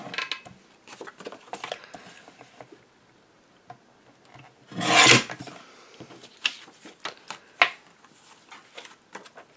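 Recycled paper being cut for a handmade birthday card: light rasping and rubbing scrapes scattered throughout, with one louder, rougher burst of cutting in the middle.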